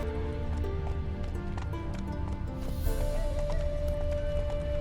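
Horse hooves trotting in the game Witcher 3: Wild Hunt, a continuous rhythmic clip-clop under a dense bed of low rumble and ambient music, steady and close throughout.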